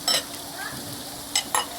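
Paella fries on a Blackstone griddle as a steady, soft sizzle, broken by a few sharp scraping stirs near the start and end.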